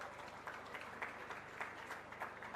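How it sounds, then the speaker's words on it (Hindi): A crowd gathered for the Hareli festival in Chhattisgarh claps together in a broad, fairly distant wash of applause. It runs steadily with slight swells, and no voices stand out above it. "एक बार जोरदार ताली बजा दो"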